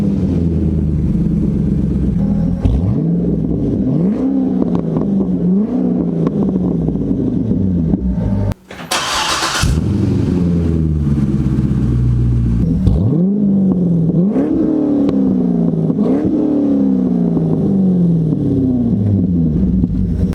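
A car's revving exhaust after an H-pipe or X-pipe change, loud and close, rising and falling through several long throttle sweeps with a brief burst of noise midway, no talking.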